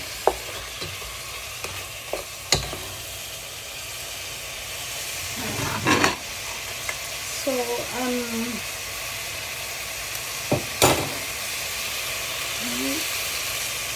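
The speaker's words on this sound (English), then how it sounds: "we start again to fry or stirring, so at least everyone is mixed." Chicken for tinola fries in a pan as a spoon stirs it, with a soft steady sizzle under sharp scrapes and clinks against the pan, and a person speaks briefly between the stirs.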